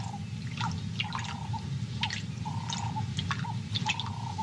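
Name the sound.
lioness drinking water at a pool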